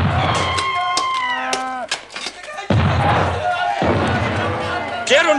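Cattle lowing in several drawn-out moos at a farmstead, mixed with sharp gunshot-like bangs and a slam, with voices talking loudly throughout.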